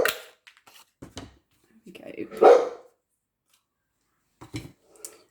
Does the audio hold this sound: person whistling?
no